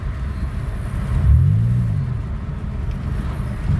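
A 2007 Pontiac Grand Prix engine idles with a low rumble, then revs once at light partial throttle, rising and settling back over about a second, close and with no talking.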